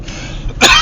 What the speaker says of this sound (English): As you can hear, I'm coughing now